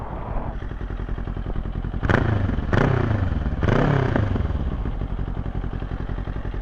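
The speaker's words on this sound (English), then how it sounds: "let's start it up so you can hear that exhaust." Close Ninja 500 aftermarket exhaust, dB killer fitted, rumbling at idle, punctuated by three sharp throttle blips that rise and drop back quickly.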